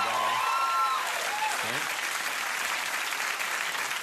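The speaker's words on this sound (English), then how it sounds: "that was real applause for Pierre" Studio audience applause at a late-night talk show, a dense, loud wash of clapping that holds steady throughout, with a voice speaking briefly over it at the start.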